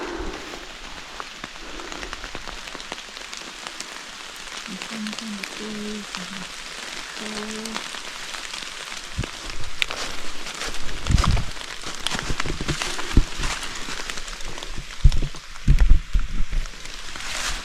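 Steady rain patters and hisses throughout, with scattered louder drips and taps growing busier toward the end.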